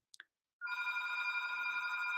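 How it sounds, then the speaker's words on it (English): A telephone ringing in a flat, opening with two short faint chirps, then a sustained bright electronic trill that starts abruptly and continues steadily, heard alone without speech. "the telephone is ringing"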